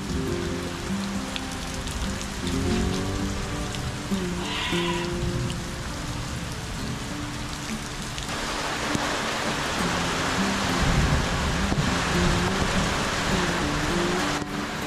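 Heavy rain pours steadily and loudly onto surfaces outside a house with broken gutters, a dense continuous wash throughout, with faint animal-like calls and background sounds mixed in early on.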